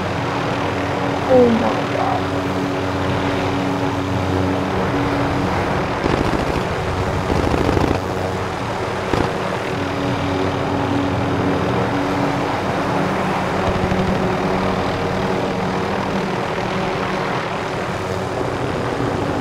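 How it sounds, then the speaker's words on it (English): An enemy UAV aircraft flying overhead in Call of Duty Warzone, a continuous loud engine drone that persists throughout, with a voice exclaiming briefly over it. "Enemy UAV overhead."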